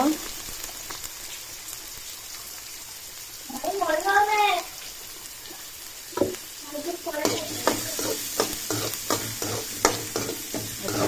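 Chopped onion frying in a pan for a Goan taikulya bhaji, with stirring clatter and a sizzle under scattered voiced sounds; the frying and scraping grow busier and louder in the second half.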